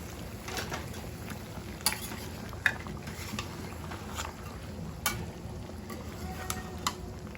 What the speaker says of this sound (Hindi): अच्छे से सब चीज़ों को हम मिक्स कर देते हैं